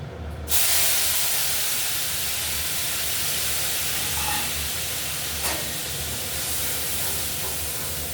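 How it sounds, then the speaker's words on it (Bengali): Ground spice paste of onion, ginger and cumin with a bay leaf hitting hot oil for an egg curry, a loud steady hiss and sizzle that starts abruptly and holds at an even level, with a couple of faint clinks. "এখন আমি মশলাটা তেলের মধ্যে, গরম তেলের মধ্যে দিয়ে দিচ্ছি।"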